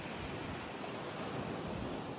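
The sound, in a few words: ocean waves on a beach at Ko Phra Thong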